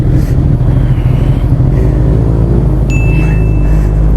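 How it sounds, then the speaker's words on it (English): A Ducati 899 Panigale sportbike engine revs loud and close, a steady heavy roar with a faint whine above it and no one talking. "Oh, that Ducati sounds so good."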